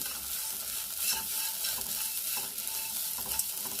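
Onion and grated coconut sauté in a pan with a continuous crackling sizzle and light stirring scrapes, steady and close, with no voices.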